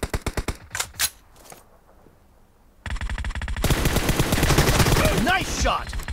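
Gunfire in the video game PUBG: a quick string of sharp single shots, a pause with near silence, then a loud sustained burst of rapid automatic fire with other game effects layered over it.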